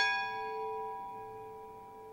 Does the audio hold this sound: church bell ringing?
yes